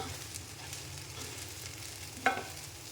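Chicken fried rice stirred and tossed with two spoons, giving a soft continuous scraping and sizzle with one sharper metallic clink near the end, quiet and close with no voices.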